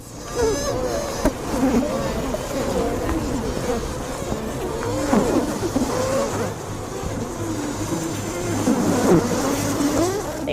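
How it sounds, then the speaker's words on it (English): A dense, steady buzz from a mass of honeybees fills the whole stretch, with fluctuating swells and no voices. "Scientists recently recorded and analyzed alarm sounds made by honeybees during hornet attacks."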